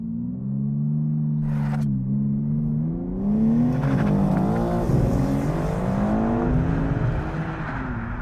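A BMW M4 CSL launches under launch control with all aids switched off, its engine droning steadily, then rising in pitch through the gears. The sound is loud and close, with a brief shift break, continuous throughout and with no talk.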